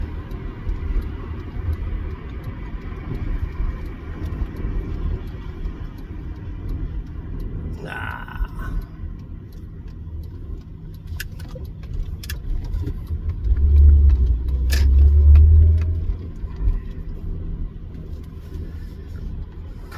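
A Honda CL Type S accelerating hard on a road, deep engine rumble rising as the VTEC engages near 4,500 RPM, heard from inside the car with road noise and a loud surge partway through.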